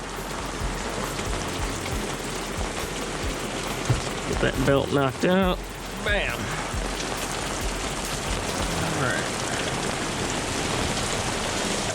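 Constant steady rain pouring and pattering on surfaces all around, loud and unbroken, with someone speaking briefly partway through.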